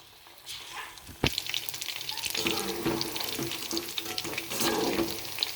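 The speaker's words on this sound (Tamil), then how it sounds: "ஆயில் நல்லா ஹீட் ஆனதுக்கப்புறம் நம்ம மிக்ஸ் பண்ணி வச்சுருக்கிற காளான் வந்து நம்ம இதில் கொஞ்சம் கொஞ்சமாக பேர் பண்ணி நல்லா பொறிச்சு எடுத்துக்கலாம்" Mushroom mixture deep-frying in hot oil for a street-style Tamil kaalan dish, a steady hissing sizzle that swells after a sharp clatter as batter drops into the pan, close and fairly quiet, with no talk.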